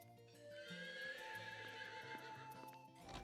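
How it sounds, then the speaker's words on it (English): A horse neighs in the Wild ARMs 3 video game, its whinny drawn out over game music with faint hoof clip-clops, loud and close with no talking. "Look at the horsey."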